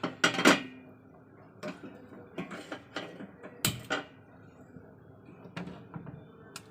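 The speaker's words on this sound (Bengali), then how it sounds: "তো চলুন গ্যাসটা জ্বালিয়ে দিই।" A gas stove being lit in a home kitchen: a series of close, sharp clicks and metallic clanks scattered unevenly over several seconds, separated by quiet gaps, with nobody talking.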